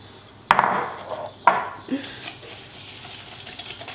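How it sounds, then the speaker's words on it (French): Butter, chocolate and sugar being stirred in a bowl: a couple of sharp utensil knocks against the bowl, then softer scraping and clinking, close and fairly quiet. "moi je suis en train de justement touiller mon beurre et mon chocolat"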